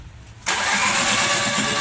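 A Skoda Rapid car engine cranks briefly and catches, bursting into a loud, steady idle after about half a second of quiet, heard up close with no talk.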